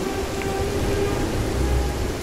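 Steady, loud rain hisses continuously in the video game Beyond Eyes, a dense, even wash of downpour with a low rumble beneath and no talking.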